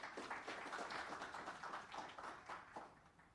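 Audience applause at a launch and rebranding ceremony, a dense steady clatter of many hands clapping throughout, moderately distant and fading slightly toward the end.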